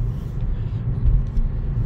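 A 2008 Škoda Octavia Sport Edition with the 1.8 TSI 160 hp engine cruises along, giving a steady, deep cabin rumble of engine and road noise with slight swells.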